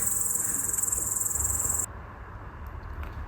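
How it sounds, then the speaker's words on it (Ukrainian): Cicadas near Skhidnytsia: a loud, steady, high-pitched chirring drone for about two seconds that cuts off abruptly, leaving a low outdoor rumble. "Чуєте, друзі, цей звук? Наче як цикади на морі."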